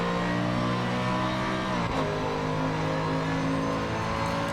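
A Mercedes AMG GT3 race car engine in Assetto Corsa Competizione at the Barcelona circuit drones loudly and steadily, its pitch dipping briefly at a gear change before climbing again under full throttle.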